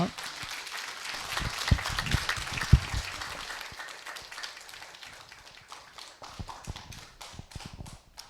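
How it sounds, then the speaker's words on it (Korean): An audience at a Korean philosophy lecture applauds an award presentation, with a steady patter of clapping that gradually thins out and fades over several seconds, a few sharper claps standing out. "큰 박수 부탁드립니다"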